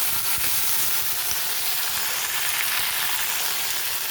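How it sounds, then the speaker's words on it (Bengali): Tomatoes fry in hot oil with panch phoron and dried chillies, a steady close sizzle with crackling spatters and faint stirring scrapes, no voices. "আগে একটু ভালোভাবে ভেজে নেবো টমেটোগুলোকে"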